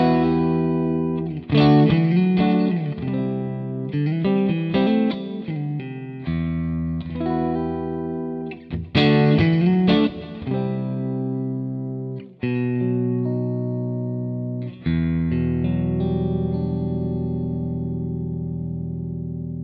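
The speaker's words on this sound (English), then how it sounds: "it gives you this really big clean tone that doesn't really break up" Electric guitar through an Amplified Nation Wonderland Overdrive V2 amp with the master at about one o'clock, a big clean tone that stays unbroken, strummed chords ringing and sustaining, alone and up front.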